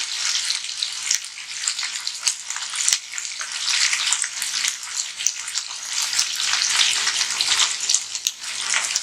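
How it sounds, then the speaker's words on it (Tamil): Ivy gourd (kovakkai) sautés in oil in a pan over a medium flame, producing a continuous bright sizzle and crackle with occasional sharp clicks of stirring, close and fairly loud. "இப்போ நல்லா வதக்கி விடுங்க. கொஞ்சம் வந்து மீடியம் ஃப்ளேமில் வச்சுக்கோங்க."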